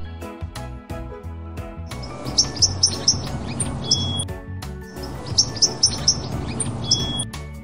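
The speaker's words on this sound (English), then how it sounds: "Sparrow." Sparrow chirping in quick bursts of bright, repeated tweets over a busy background of other calls, two clustered runs of sharp notes, close and clear.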